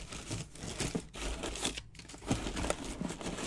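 Packs of 1986-87 Fleer basketball cards are shuffled by hand, giving close crinkling and rustling of wrappers that runs continuously with small bursts and no talk.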